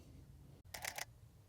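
A single camera shutter fires while shooting a landscape, a short burst of clicking mechanical sound standing out against a quiet outdoor background.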